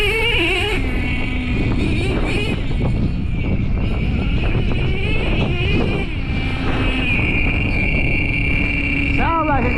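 A Traxxas T-Maxx nitro RC truck with an OS .18TM engine and dual pipes runs loud and raspy, its pitch wavering and sputtering as it idles and blips. Voices are heard over it.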